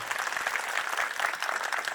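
Sustained applause from a seated audience at a community hall foundation ceremony, dense steady clapping from many hands throughout without pause.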